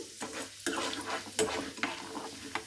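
Chana dal and urad dal fry with ginger in a pan, a close steady sizzle broken by several sharp spatula stirs and scrapes at regular intervals.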